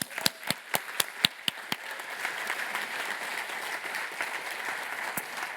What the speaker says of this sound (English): So I think we all need a huge round of applause for all of them.